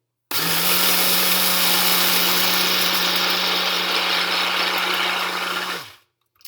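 An electric grinder runs steadily, grinding oatmeal into breadcrumb-sized pieces, a loud, constant motor whine that starts abruptly, holds for about five and a half seconds and then cuts off and winds down.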